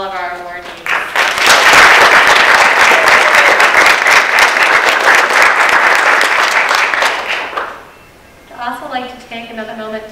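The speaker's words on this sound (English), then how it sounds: "another round of applause for all of our awardees" An audience breaks into applause for award recipients at a faculty instructional awards ceremony, a full burst of clapping that swells, holds steady, then fades out into a speaking voice at the end, with speech also heard just before it.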